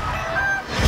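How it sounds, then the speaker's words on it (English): A chicken squawks in the Jumanji: Welcome to the Jungle trailer: one short, loud, honking cry lasting under a second, ending in a low thump of soundtrack. "Chicken."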